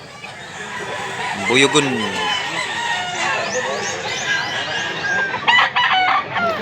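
Roosters and chickens at a busy market in Mantalungon, Cebu crow and cluck over a constant crowd murmur, with a voice speaking briefly near the middle.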